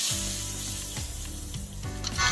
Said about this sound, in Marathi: हे पहा फोडणी केलेली आहे आपण ती ओतूया